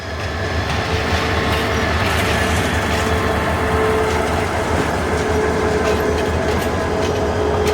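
Red-and-green intercity train drawn by a 2700 series locomotive rolling past, a loud sustained roar of wheels on rails with rhythmic clickety-clack and faint metallic squeal, no talking.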